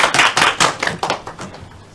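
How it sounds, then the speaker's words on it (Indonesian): A class in a microteaching session claps hands, giving a short burst of loud, close, irregular claps that thin out and fade within two seconds. "Berikan tepuk tangan dulu untuk Bu Raisa."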